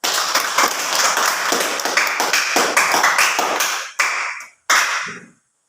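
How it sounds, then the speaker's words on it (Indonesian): A classroom or school audience clapping hands in a quick, fairly close burst, thinning into a few scattered final claps before stopping. "Tepuk tangan dulu kalau memang bisa."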